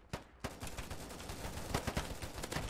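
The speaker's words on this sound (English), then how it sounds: "I'm shooting right still" Rapid hipfire shots from an AK-12 rifle in a video game, sharp cracks in quick irregular bursts, close and fairly loud over a busy game background.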